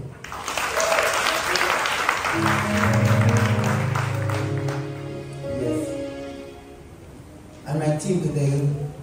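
Clapping from a church congregation keeps going under singing or sustained vocal tones, a busy patter that fades midway and then swells again near the end.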